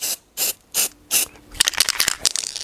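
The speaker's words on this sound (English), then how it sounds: "It needs to be shaken a bit better. So I actually get some silver coming out." A can of silver glitter spray paint gives four short, evenly spaced bursts of hissing spray, then a quick, loud rattling shake of the can's mixing ball.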